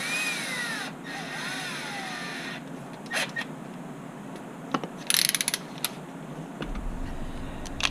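Small screws being driven into the top brace of an HB Racing D817V2 RC car chassis, with quick ratcheting clicks from the driver and a few sharp clicks and taps at close range in a quiet room.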